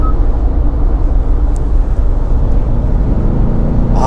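A Kia Mohave's V6 3.0 diesel engine accelerates, a steady, dense low rumble heard from inside the cabin, fairly loud and without talk.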